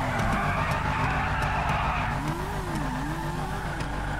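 A car in GTA 5 pulls away hard, its tires squealing and skidding while the engine revs rise and fall, loud and close throughout.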